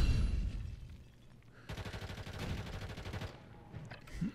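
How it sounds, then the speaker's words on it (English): Sustained automatic fire from a Kastov LSW light machine gun in Modern Warfare III, a long rapid burst of closely spaced shots after a quieter opening, then a brief pause and a few scattered rounds. "We're just going to shoot through cover there."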